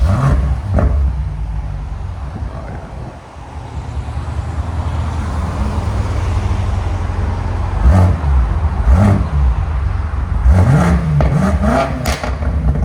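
A stock 2018 BMW M5 Competition with a 4.4L twin-turbo V8 and factory exhaust idles with a loud steady rumble, then is revved several times in short rising bursts, close up, with no talking.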